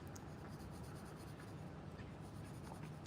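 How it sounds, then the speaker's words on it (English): A 6H pencil sketching on paper outdoors, drawing trees and leaves: a steady, close, soft scratchy graphite rasp that runs continuously throughout, with no voices. "I'm using the 6H pencil out here"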